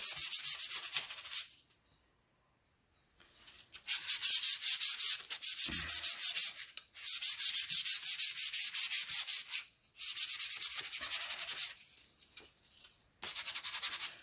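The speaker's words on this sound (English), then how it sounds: "I'm sanding it down." Sandpaper rubs back and forth along a small child's wooden axe handle, close and steady in long rhythmic strokes broken by brief pauses.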